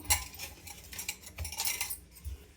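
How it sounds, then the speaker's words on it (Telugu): Semolina and powdered sugar being stirred as they roast in a pan for rava laddu, with close, uneven scraping and clinking of a spoon against metal, no talking. "అడుగంటకుండా తిప్పుతూనే ఉండాలన్నమాట తిప్పుకుంటూ తిప్పుకుంటూ ఉండాలి"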